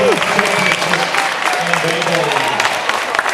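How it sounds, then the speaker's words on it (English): Audience applause at a Comic Con and anime festival panel in New York, a steady wash of many hands clapping through a crowded hall, with voices and cheers mixed in. "Let's have a big round of applause for all of our amazing people."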